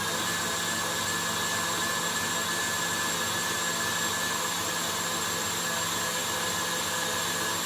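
A kitchen mixer runs at full speed beating melindros batter, a loud, steady whirring drone that holds constant throughout with no pauses.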